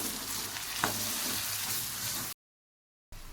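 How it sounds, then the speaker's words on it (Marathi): Ground masala paste roasting in oil for a curry made from poha and besan: a steady broadband sizzle with a single spoon scrape, then a sudden drop to silence before the frying resumes. "आता टाकूयात आपण वाटून घेतलेला हा मसाला आणि हा मसाला आपल्याला पाच ते सहा मिनिटं छान भाजून घ्यायचा आहे तेलावरती"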